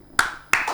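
Two sharp hand claps ring out close by, spaced about a third of a second apart, as an audience welcomes a pastor on a Christian program.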